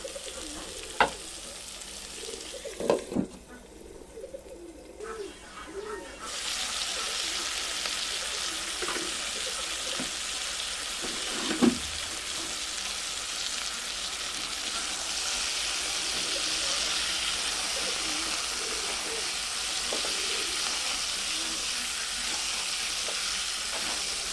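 Pointed gourd (potol) frying in a pan, often covered and turned: a steady, close sizzle that fills the stretch, with a few brief knocks of a utensil early on and one later, and no talk.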